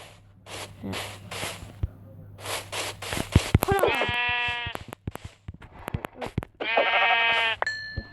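Sheep in the video game Minecraft bleat several times, loud and close, with short wavering cries repeating over a few seconds, preceded by soft game clicks and shuffling.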